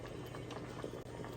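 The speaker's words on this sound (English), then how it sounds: "Now it's boiling a little bit again after I added some more water" Seafood paella broth bubbling at a low boil in a pan after more water was added, a faint, steady simmer of soft popping with no talk over it.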